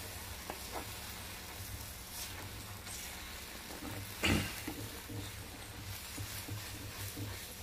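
Gongura leaves frying in oil in a pan for a dry red chilli chutney, a steady soft sizzle throughout with one brief louder crackle midway, no talking.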